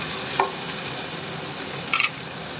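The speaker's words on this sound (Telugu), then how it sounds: "అల్లం వెల్లుల్లి పేస్ట్ బాగా వేగిపోయిందండి" Ginger garlic paste fries in a pan for a prawn curry, a faint steady sizzle under two brief scraping stirs.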